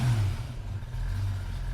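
A car engine idling with a Venturi restrictor plate fitted on a Sniper 2300 throttle body, a steady low rumble held close and even, without voices.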